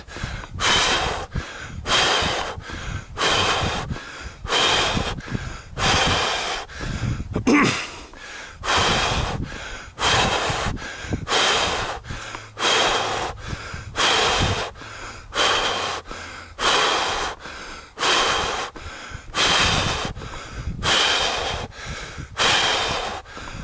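After a 5K run, a runner breathes hard and close in steady, heavy cycles, each gasping inhale and forceful exhale repeating rhythmically for a long stretch without letting up.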